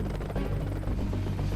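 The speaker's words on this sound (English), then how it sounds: "This is the best attack helicopter in the world, bar none." An AH-64 Apache attack helicopter's rotor thumps in a dense, steady low drone, fairly loud and continuous with no voices.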